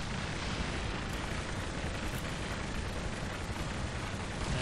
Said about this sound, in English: I don't think he's going to survive that explosion.